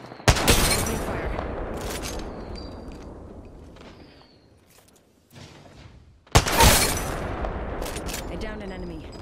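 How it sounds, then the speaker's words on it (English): Two loud bursts of gunfire in PUBG, each a sharp crack with a long echoing tail, a few seconds apart, separated by a near-silent gap with faint mechanical clicks. "Opening fire."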